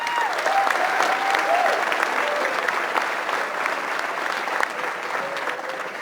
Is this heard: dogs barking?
no